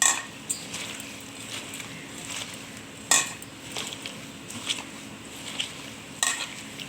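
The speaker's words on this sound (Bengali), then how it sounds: "এবার এটাকে ভালো করে মাখিয়ে নেব।" Soybean chunks being mixed by hand or spoon with tomato paste, ginger and fried chili in a bowl or pan, giving soft wet squelching and stirring with a few sharp clinks of utensil on metal, close and steady, no talking.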